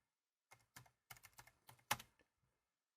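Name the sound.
typing on a computer keyboard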